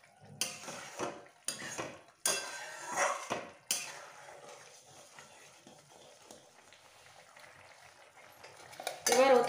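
Chicken manchurian gravy is stirred in a pan with a spoon, giving several loud scraping and clinking bursts in the first few seconds, then a quieter stretch and one more sharp clatter at the end.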